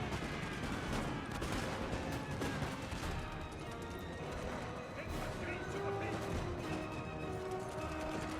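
Musket volleys crackle in a Napoleon Total War battle, a dense, continuous din of distant and nearby gunfire with clatter and battle noise, with a voice speaking over it.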